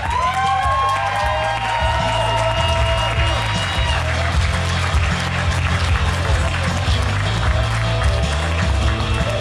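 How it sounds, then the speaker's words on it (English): Wedding guests at a reception applaud steadily for the parents of the bride, a dense wash of clapping and cheering with whoops, under amplified music and talk. "let's give a nice round of applause to our parents of the bride, Steve and Margaret Mortensen."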